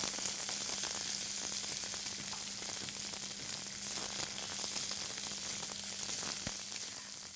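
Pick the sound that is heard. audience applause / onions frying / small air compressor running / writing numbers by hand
onions frying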